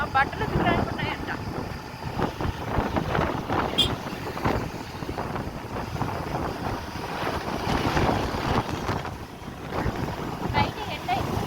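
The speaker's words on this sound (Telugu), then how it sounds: "కానీ గాలి అయితే పక్కన వస్తుంది." Outdoor wind blows steadily at Gandikota, buffeting the microphone with a constant broadband rush and low rumble throughout, with no clear talk over it.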